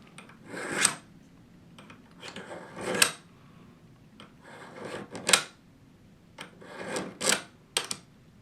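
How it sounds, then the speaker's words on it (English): A Buck knife is drawn through a Hunter Honer sharpener in a series of short, dry rasping strokes at uneven intervals, close and fairly faint, with no talking. "Let's go ahead and go do the buck knife here."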